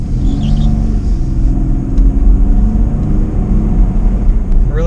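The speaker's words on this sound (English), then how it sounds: "I really like the sound of that exhaust." A 2011 Nissan Xterra Pro 4X accelerates onto a road, its exhaust giving a steady, loud, low droning rumble heard from inside the vehicle.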